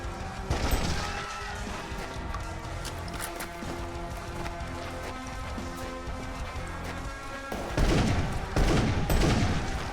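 Rapid gunfire from the Darkenstein 3D video game, a dense run of loud shots that continues throughout and swells into heavier bursts near the end.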